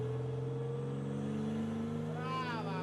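A car engine pulling up to speed during handbrake driving practice, a steady humming drone with even tonal harmonics, ending as a voice begins talking over it.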